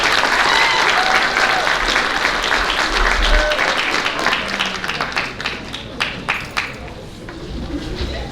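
A banquet audience at a high school athletic awards dinner gives the varsity boys track team another round of applause, steady dense clapping that gradually fades to a few scattered claps with faint background chatter.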